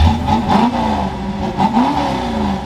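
A 1966 Ford Galaxie's big-block V8 with a NASCAR-style exhaust revs repeatedly up close, its deep exhaust rising and falling in pitch through several throttle blips with a loud, rumbling burble.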